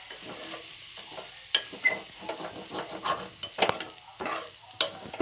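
Spinach stir-fried in a pan, a curry cooked down well. Quick, close scraping strokes of a spatula give an uneven rhythm over a soft sizzle, with occasional sharper clinks against the pan.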